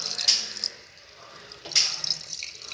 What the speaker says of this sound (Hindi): अब हम इसमें ऐड कर लेते हैं पानी।